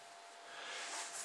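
A small LED projector runs with a soft, steady fan hiss, faint and close, swelling slightly partway through with no other sounds.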